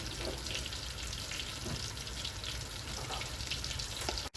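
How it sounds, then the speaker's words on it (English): Spotted grouper (hammour) fish frying in a pan, a dense steady sizzle and crackle at moderate level, continuous until a sharp cut at the end. "we're gonna wait for it to fry a bit"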